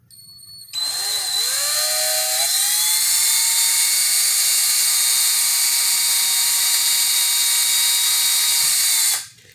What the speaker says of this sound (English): I just take a small drill bit and just drill straight down through the top.